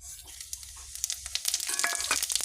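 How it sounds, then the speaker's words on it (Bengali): Whole tempering spices dropped into hot oil, crackling and spitting in quick bursts that grow louder and busier toward the end, close up with no talk. "তো এই যে তেলটা গরম হয়ে গেছে ফোড়নগুলো দিয়ে দিব"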